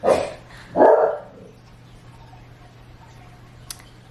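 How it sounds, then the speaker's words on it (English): Two sharp, loud dog barks close by, then quiet room tone with a faint click near the end. "I never thought I'd catch him barking."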